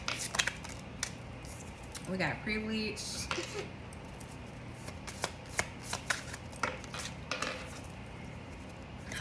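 A tarot deck being shuffled by hand makes rapid, crisp riffling and flicking bursts that recur throughout, close up, with a person talking over and between them.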